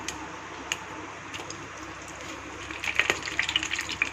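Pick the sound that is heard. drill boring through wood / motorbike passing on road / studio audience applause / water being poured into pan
water being poured into pan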